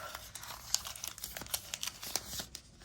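Protective plastic film being peeled off a new TCL 30 XE 5G phone during an unboxing, giving a faint, close run of crinkling and crackling with small sharp ticks throughout.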